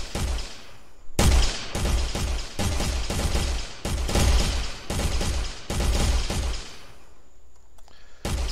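Loud, close automatic gunfire in an Unreal Engine 4 Infected game mode, a string of sustained bursts with brief gaps that fades toward the end.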